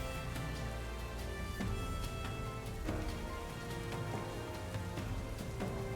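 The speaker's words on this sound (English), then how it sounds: "Rain's gonna stop as well." Steady rain weather effect from a Pokémon video game battle, a continuous hiss of falling rain on a surface with faint droplet ticks, loud and unbroken with no talking.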